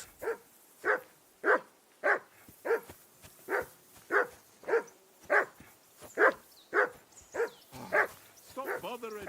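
A dog in the medieval role-playing game Kingdom Come: Deliverance 2 barks steadily, about a dozen evenly spaced, fairly loud barks in a row, ending in a short whimpering yip.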